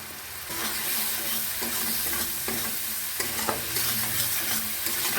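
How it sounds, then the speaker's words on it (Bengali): Chopped tomato and spices stir-fry in hot oil for a fish curry with potato and cauliflower, a continuous close sizzle punctuated by regular scraping stirs of a spatula against the pan. "টমেটো কুচি দিয়ে দিচ্ছি এবার খুব ভালো করে কষিয়ে নেব"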